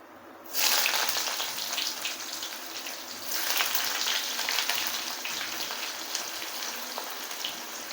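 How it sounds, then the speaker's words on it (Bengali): Chopped onions dropped into a pan of hot oil with curry leaves for a carrot chenchki, bursting into a loud, crackling sizzle that holds steady and swells again midway, close with no talk. "এরপরে আমি পেঁয়াজগুলোকে কিছুক্ষণ সময়ের জন্য ভেজে নেব"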